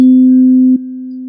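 A second tuning fork sounds a clean, unwavering pure tone, strong and close, holding steady with a small dip in loudness near the end and nothing else heard.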